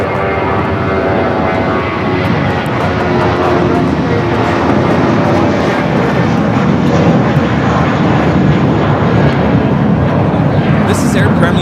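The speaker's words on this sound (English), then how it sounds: "This is Air Premia 102 taking off to Seoul on the 787-9 Dreamliner." An Air Premia Boeing 787-9 Dreamliner takes off from LAX runway 25 right, its jet engines giving a loud, steady roar that holds for the whole stretch, with faint voices in the background.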